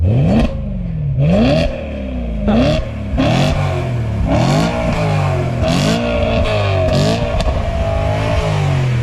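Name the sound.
old sports car engine revving with backfire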